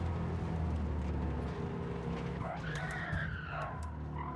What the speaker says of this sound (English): We crashed. We're in trouble now.